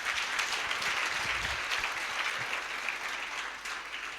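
A church congregation applauds at a Sunday victory service, dense sustained clapping from a crowd filling the room, loud and steady before tapering slightly toward the end.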